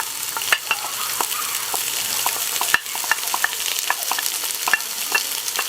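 Onions sear in hot sunflower oil with a continuous close sizzle, punctuated by repeated sharp clicks and scrapes from stirring.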